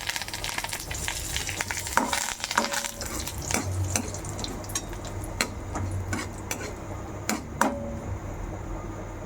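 Hot oil crackles and sizzles steadily as asafoetida and curry leaves go in for a tempering, with sharp pops and the clink of a stirring utensil against the pan throughout.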